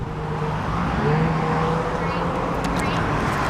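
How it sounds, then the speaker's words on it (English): A car passes by on a road at night while friends fool around on the pavement. The engine and tire noise swells and fades steadily under a continuous background roar, fairly close. "a car passed right by"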